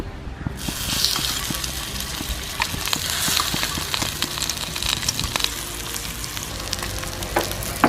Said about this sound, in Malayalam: വെളിച്ചെണ്ണ ചൂടായി നമ്മൾ പട്ടത്തീനെ വറക്കാൻ വയ്ക്കണം.